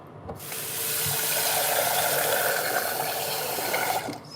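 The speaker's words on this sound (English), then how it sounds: "So here is rice and beans. I'm gonna wash it like this." Rice and beans rinsed under a running tap, a steady broad rush of water splashing into a basin for several seconds, fairly close and loud, with no talking.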